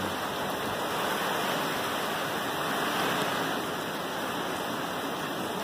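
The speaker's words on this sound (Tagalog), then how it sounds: "At may kasamang ulan." Typhoon wind driving rain in Angeles City, heard as a continuous dense rushing roar, loud and even throughout with no voices.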